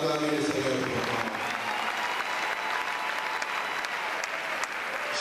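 A church congregation applauds continuously and loudly, a dense wash of clapping from many hands filling the space, with a little voice and music underneath at the start.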